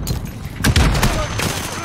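Rapid bursts of gunfire from a first-person shooter video game, a loud fusillade of overlapping shots with sharp cracks, heard under excited voices chattering.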